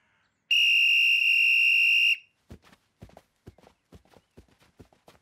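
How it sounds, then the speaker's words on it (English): A sharp, loud whistle blast lasts about a second and a half on a football field, followed by a series of light, uneven footsteps or hoof-like clops. "you're pretty good with a whistle"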